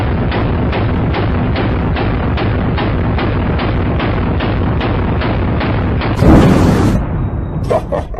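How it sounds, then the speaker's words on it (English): Gunfire at a target on a shooting range: a rapid, evenly spaced string of loud, close shots, then a heavier burst and a few scattered noises. "Great shooting, Nisu."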